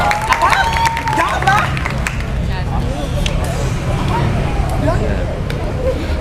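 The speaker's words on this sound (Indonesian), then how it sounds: "Ya, tepuk tangan untuk Diana." A school morning assembly crowd claps and cheers in scattered bursts, with children's voices and hubbub mixed throughout.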